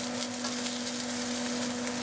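Olive oil fries steadily in a pan on the stove, making a continuous, loud, even sizzle and hiss with no voices, a faint hum running underneath.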